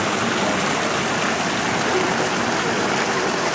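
An outdoor public fountain with statues of boys and ducks spouting water, a continuous dense splashing rush that stays steady and fairly loud throughout with no pauses.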